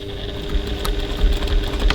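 A sewing machine stitches a handbag seam, a close, steady motor whir with a rapid mechanical chatter of the needle running continuously through the short stretch.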